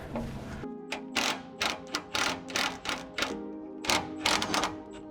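On a Supra, a hand ratchet works loose the 12 mm rear subframe bushing bolts in quick, sharp clicking runs. The runs are close and bright, and one brief pause breaks them up.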